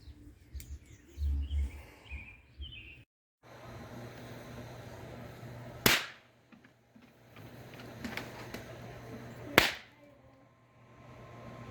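Two Maddox Ox Slammers adult snap fireworks go off outdoors a few seconds apart, each a sharp, loud crack. Birds chirp and a low background hum continue between the pops.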